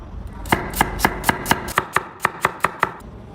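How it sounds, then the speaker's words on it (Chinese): A knife slices white radish into thin pieces on a board. About a dozen crisp, close chops come in an even, quick rhythm, with no talking. "然后切成薄片，"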